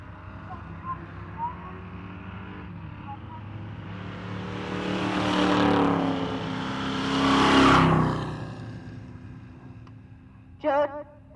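Naturally aspirated big block drag race cars launch at Pueblo Motorsports Park, their engine roar swelling in two loud, moderately distant surges before fading back to a steady background rumble, with a brief sharp burst near the end.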